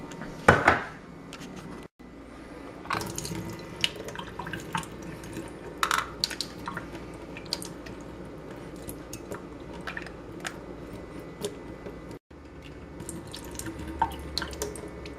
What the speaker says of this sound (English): As you can see, I'm just draining out the water.